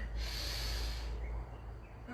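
Heavy breathing during a yoga pose held in a fitness challenge session, a loud sustained rush of air through the nose and mouth lasting over a second, then quieter steady breath with no talk.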